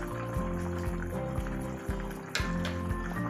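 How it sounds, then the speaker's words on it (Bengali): Chicken stew boils over a high gas flame, with close bubbling and liquid plops over a low steady hum, and no speech. "চিকেন স্টুটা ভালোভাবে গ্যাসের আঁচটা জোরে দিয়ে ফুটিয়ে নিতে হবে"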